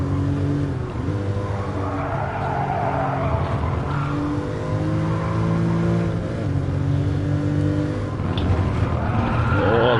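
In Gran Turismo Sport at Laguna Seca, a race car's engine drones and shifts pitch while its rear wheels lock up, giving a sustained tire squeal and skid under the loud, continuous engine note.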